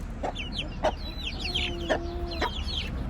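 Broody hens with chicks cluck in short, sharp bursts over a steady outdoor hum, several soft calls scattered across a few seconds with some chirping in the background.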